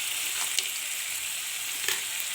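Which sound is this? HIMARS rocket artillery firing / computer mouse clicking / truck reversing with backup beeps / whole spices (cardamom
whole spices (cardamom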